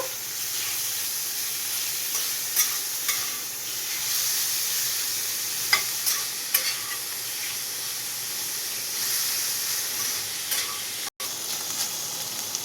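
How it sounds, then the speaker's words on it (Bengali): Chicken frying in a pan while being stirred, with a steady sizzle and hiss alongside scattered scraping stir clicks, fairly quiet and continuous with a brief break late on. "নেড়ে চেড়ে নেবো, হালকা আঁচ দেবো।"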